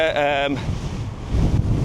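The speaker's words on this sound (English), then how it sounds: "it's pretty windy this morning" Steady wind buffeting a microphone with low rumbling gusts that strengthen toward the end, after a brief tone at the start.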